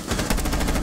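Rapid automatic gunfire in the tactical shooter Rainbow Six Siege, a loud continuous burst of close shots with no talking.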